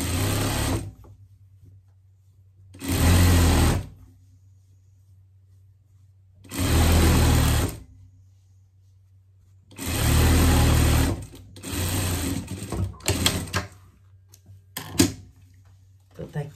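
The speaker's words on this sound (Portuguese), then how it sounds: "a gente vai passar uma costura de segurança aqui" A sewing machine stitches a safety seam on a hot-dog style pet bed, running in four loud, steady bursts of about a second each, separated by quiet pauses, with some handling noise toward the end.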